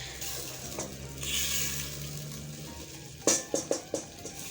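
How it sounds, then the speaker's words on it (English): A potato mixture with water for pilau simmers in a pot with a soft steady bubbling hiss, followed near the end by a few distinct clinks of a utensil against the pot. "we're going to let it simmer for some time before we add our meat so that the potatoes can soften"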